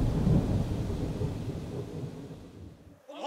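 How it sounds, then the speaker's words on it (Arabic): Dramatized storm with a heavy, rolling thunder rumble over dense pouring rain that fades into a brief hush before a new crackling thunderclap breaks in. "ما هذا المطر العجيب الذي يمنعنا من التقدم صوب محمد؟"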